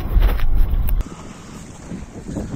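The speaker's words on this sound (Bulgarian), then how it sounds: "Сега се пък раздуха някакъв южен вятър." A cold southerly wind buffets the microphone on a seashore while someone fishes for squid, with a heavy, rumbling gust that drops off abruptly into softer, steady blowing.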